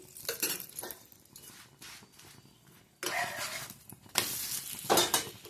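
Methi (fenugreek leaf) paratha cooking in ghee on a pan, giving a soft, uneven sizzle with stirring and light clinks of utensils, growing louder in bursts toward the end, with no talking.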